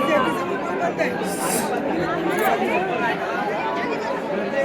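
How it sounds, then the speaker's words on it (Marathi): Dense crowd chatter fills the air at the Ekvira temple near Lonavala, a steady hubbub of many overlapping voices, with a nearby person speaking over it. "गर्दी आहे पण एवढी पण गर्दी नाही."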